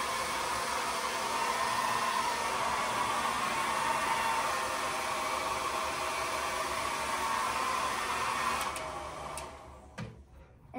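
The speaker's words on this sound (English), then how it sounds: "you don't hold the hairdryer too close up because then your paint starts to bubble" A hair dryer blows steadily on wet paint in an artwork of a peacock, a loud continuous whooshing hum that runs for about nine seconds before cutting off, followed by a few faint clicks.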